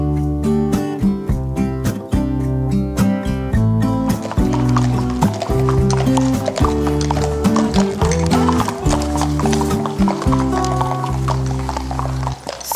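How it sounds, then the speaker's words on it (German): A horse ridden toward the warm-up arena at a horse and hunting fair in Hanover, its hooves clip-clopping in a steady rhythm beneath loud, prominent music. "So, wir reiten gerade zur Halle."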